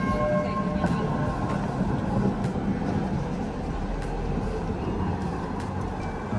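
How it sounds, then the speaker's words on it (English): A tram rumbles past nearby in Msheireb, Doha, Qatar, with a steady, broad low roar and some faint squeals, sustained throughout with no clear breaks. "And here's the tram."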